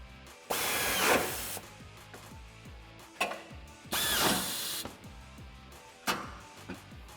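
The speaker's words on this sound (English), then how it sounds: "Grab your 14mm socket and tighten these down." Bracket nuts on a 2016-2019 Toyota Tacoma bull bar install being tightened with a 14mm socket, with close ratchet clicking and three loud power-tool bursts separated by pauses and no talking.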